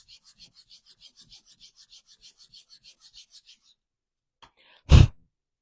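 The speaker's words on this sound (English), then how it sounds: "I get this 120 grit sandpaper. It's pretty rough. And with the grain of the wood, I'm just going to sand" Sandpaper of 120 grit rubbed along the grain of a wooden craft piece, a light rhythmic back-and-forth rasping of about twenty quick strokes, then a brief pause and a single louder scuff near the end.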